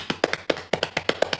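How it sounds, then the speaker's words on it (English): Hands pat rapidly on legs, a dozen close, fleshy slaps in a quick, bouncy rhythm. "The third one is we are going to pat on our legs."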